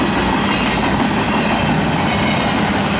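A westbound train rolls past on the rails, loud and close, with a steady broadband rumble and rattle of wagons that fills the whole stretch without a break.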